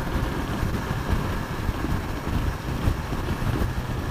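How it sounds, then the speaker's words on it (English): A BMW S1000 XR motorcycle engine runs smoothly while being ridden, a steady low drone mixed with heavy wind rush on the microphone. "Yeah, the engine itself is silky, silky smooth."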